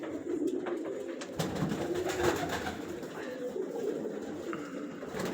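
A large pigeon coos repeatedly in low, throaty rolls, close by and fairly loud against a busy background of rustling and other bird sounds.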